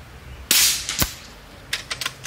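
An Uragan 2 airsoft rifle fitted with an AAO 2023 upgrade kit fires close by: one sharp crack, then a second, then a quick burst of four lighter snaps.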